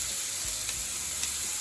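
Eggplant pieces frying in a pan on the way to golden brown, giving a steady, close, continuous sizzle and crackle with no voices.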